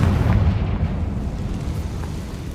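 Confringo fire spell blasting in Hogwarts Legacy, a dense, rumbling explosive roar that carries through the whole moment with heavy low-end boom and crackle, no voices over it.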